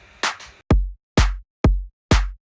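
A bass house clap layered with a hi-hat comes first as a bright, noisy burst. Four punchy kick-like hits follow in a steady rhythm, each with a sharp attack and a deep low tail, with no talking.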